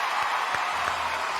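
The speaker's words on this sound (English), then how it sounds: "Ladies, let's give it up for Anne McPartlin." Short burst of audience applause at a magic show for Anne McPartlin, a steady wash of clapping from a crowd that holds at an even level for just over a second.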